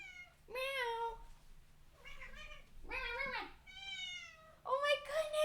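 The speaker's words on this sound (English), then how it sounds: "She's a loud meower. You're such a loud meower." A pet cat named Cowie gives a series of loud, drawn-out meows, five distinct calls spaced across the clip with short pauses, close to the listener, over faint background hum.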